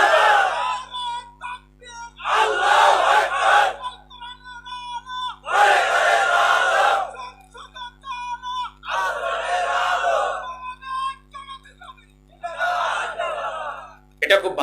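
A large crowd at a religious gathering chants a slogan in loud, rhythmic call-and-response bursts, with one amplified voice leading between the crowd's roars.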